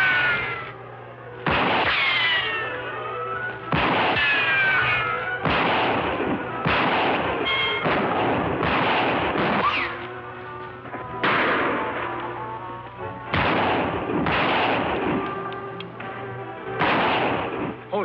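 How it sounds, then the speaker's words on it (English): Gunfire in an old Western television show rings out as a series of sharp, echoing shots at irregular intervals, each loud crack trailing off before the next. "Shots aren't coming from the same direction."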